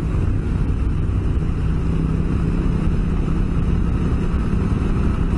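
Honda Africa Twin DCT motorcycle engine running steadily and loudly, with a dense, continuous drone and rumble throughout and no clear breaks between gear changes.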